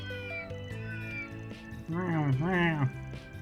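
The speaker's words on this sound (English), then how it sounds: "We've got a lot of stray cats here in Old Town" Stray cats meow in the Old Town streets of the video game Trails through Daybreak, several plaintive calls rising over soft background music, with the last two meows loudest and closest.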